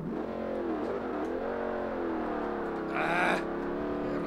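A Pontiac GTO in the Forza Motorsport racing game revs and holds a steady, rising and falling engine tone, with a sharper high-pitched surge near the end, heard alone at moderate volume.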